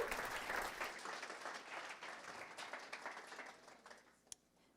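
A meetup audience applauds after a talk at a small-team design systems event, steady dense clapping that tapers off near the end with one sharp clap just before it fades.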